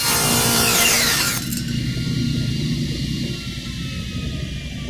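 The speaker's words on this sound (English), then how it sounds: "So now I'm going to cut my board again." A table saw rips through a wooden board, a loud steady whine and cutting roar for about a second and a half before the blade runs on alone with a lower hum as the cut ends.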